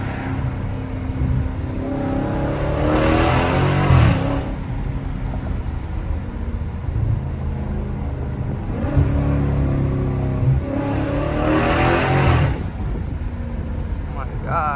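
Loud Dodge Challenger Scat Pack 392 V8 roaring and revving on a late-night drive, with repeated surges of throttle over a constant engine drone and road noise.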